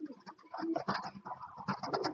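A pair of Mili racer pigeons coo softly nearby in short, repeated throaty bursts, quiet and close.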